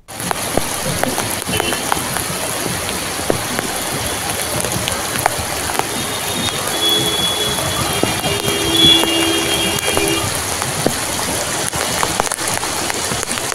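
Heavy rain patters on a surface in a dense, continuous wash in Medak district, with a faint engine hum and brief tones in the background.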